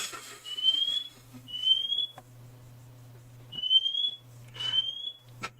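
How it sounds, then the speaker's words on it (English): A smoke alarm chirps in short, high, piercing beeps, about five of them in an irregular sequence, with a low steady hum and some clattering in the room between them. "that's a fire alarm, but it's not a fire"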